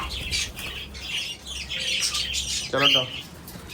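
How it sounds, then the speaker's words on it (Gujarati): Cockatiel squawks and chirps in a breeding colony, with a brief loud call near the end standing out over a background of birds chattering. "આ કોકાટેલ છે।"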